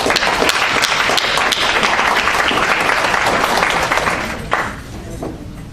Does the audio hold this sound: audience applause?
yes